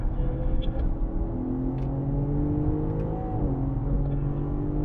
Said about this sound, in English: On the brake, off of it, squeezing throttle.